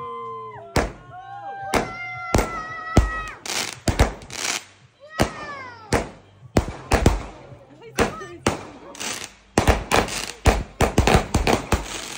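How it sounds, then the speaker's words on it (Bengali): Fireworks burst one after another at a family celebration in London, with sharp cracks, rising whistles and crackling bangs in an irregular, loud series. "একের পর এক ওরা করছে এগুলো, আতশবাজি করছে"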